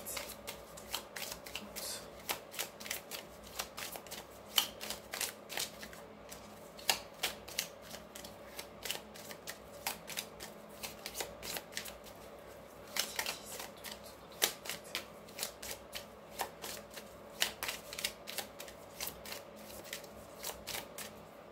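Tarot cards shuffled for a reading, a quick run of crisp riffling flicks and soft slaps repeating in bursts, close and quiet with no voices.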